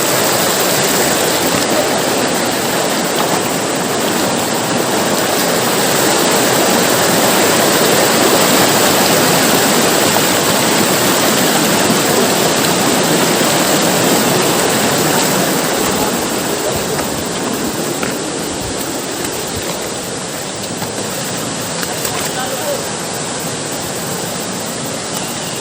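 A river rushes steadily around someone wading across it on foot during a forest trek, a dense continuous roar of flowing water, loud and close, with no break in the flow.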